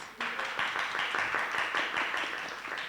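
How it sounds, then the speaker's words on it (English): An audience at a literary festival in Guinea-Bissau's honoured-guest introduction claps steadily, a dense run of many hands that starts abruptly and holds at an even, moderate level throughout. "A round of applause, please."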